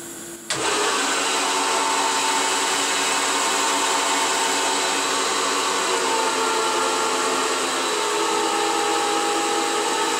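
A CNC lathe starts its first part cycle, spinning up abruptly after a short quiet moment into a loud, steady mechanical whir with a faint high tone that holds throughout.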